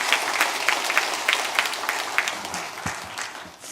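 Church congregation applauding during an Easter Sunday sermon, a steady wash of many hands clapping at once, moderately loud and fading slightly toward the end.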